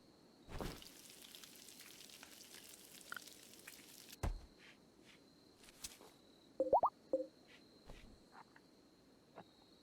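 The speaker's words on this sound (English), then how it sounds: "and it's raining. Perfect." Steady rain hisses across the first few seconds in RimWorld, followed by a quieter stretch of scattered plops and soft taps, with a thin insect-like tone running underneath throughout.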